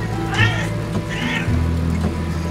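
Two drawn-out meows from a cat at an animal shelter, close and clear, about a second apart over a steady low background hum.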